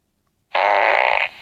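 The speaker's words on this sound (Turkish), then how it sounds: "Osurabiliyor." A video game character lets out a cartoonish fart, one loud buzzing blast of about three quarters of a second that starts abruptly after silence and ends with a short flutter.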